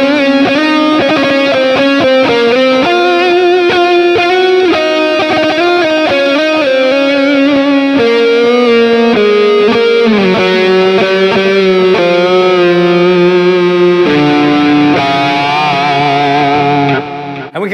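An electric guitar plays through a Line 6 Pod HD Pro with a Marshall amp model plus reverb and delay, giving sustained distorted notes and chords with echoing tails, loud and continuous, with no voice.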